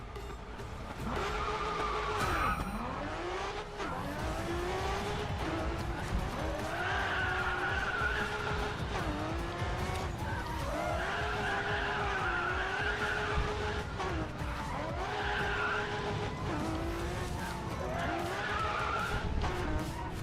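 A Honda NSX-R race car in the Racing Master game brakes hard and skids, its tires squealing again and again over a steady, loud engine drone for the full stretch, with no talking.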